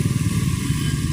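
Motorcycles and other traffic, including large trucks and cars, pass along a busy motor lane in Sandigan, a steady close engine drone and road rumble running throughout with no voices.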